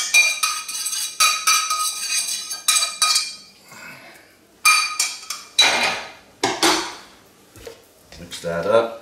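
A spoon clanks and scrapes repeatedly against a metal pot while chicken fettuccine alfredo is mixed, loud bursts of clatter in irregular rhythm with short pauses between.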